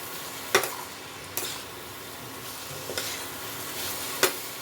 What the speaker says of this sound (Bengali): আর এর মধ্যে এই গরম মশলাটা দিয়ে দেবো সানরাইজের। ভালো মতো মিলিয়ে নেব।